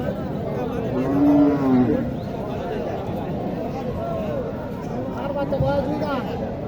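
Cattle low and moo amid a steady babble of people talking nearby, a busy outdoor cattle market crowd in Naogaon, Bangladesh.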